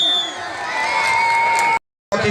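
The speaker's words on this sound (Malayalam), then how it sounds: "കൈയടിച്ച് നല്ലൊരു കൈയടി" Crowd cheering and shouting at an all-Kerala tug of war (kambavali) match, a dense steady roar of voices with whoops, ending in a short gap of silence before the noise resumes.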